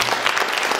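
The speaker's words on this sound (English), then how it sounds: "give him another round of applause." A brief burst of applause, many hands clapping at once in a dense, even patter.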